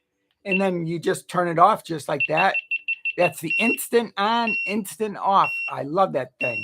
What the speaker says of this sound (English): That was my alarm saying it's 2:00.